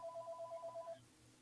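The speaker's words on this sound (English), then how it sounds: "your phone's ringing" A phone ringtone trills in a rapid, pulsing electronic pattern for about a second before stopping, faint and somewhat distant in a quiet room.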